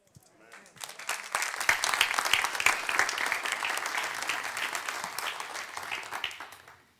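Congregation applauding at a church New Year service, dense clapping swelling in after a quiet start and holding steady for several seconds before tapering off.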